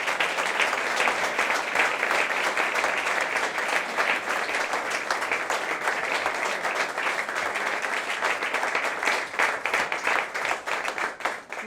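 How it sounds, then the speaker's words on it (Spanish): Sustained applause from an audience at an award ceremony, dense steady clapping filling the hall for the full stretch, loud and continuous before tapering slightly at the end, with no talk over it. "Ana Gómez, para quien pido un fuerte aplauso, por favor."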